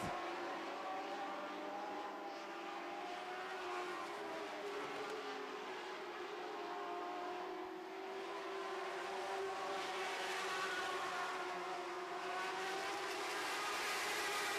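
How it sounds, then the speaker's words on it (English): Lightning Sprint Division sprint cars racing around an oval racetrack, a steady loud engine roar from several cars heard from a distance, continuous and rising and falling slightly as the pack circulates, with no talk. "Great racing action here in the Lightning Sprint Division."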